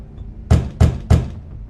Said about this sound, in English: How polite of you to knock.